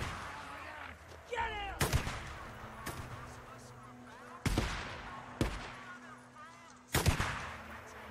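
Sniper rifle fire in the video game Days Gone: about five sharp, booming shots spaced a second or more apart, each with a rolling tail. Game ambience and faint voices run between the shots.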